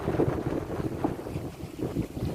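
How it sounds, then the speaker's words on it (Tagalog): Strong sandstorm wind at the sea during fishing, a steady buffeting roar with gusty wind noise on the microphone, loud and continuous. "Grabing lakas na ng sandstorm mga idol."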